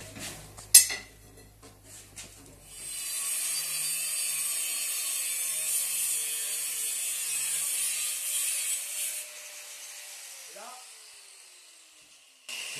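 An antique hydraulic saw cutting through metal plates in a blacksmith-cutler's forge, starting with clanks and knocks, then a steady, bright, high grinding whine that runs for several seconds before stopping, with a brief clank afterward.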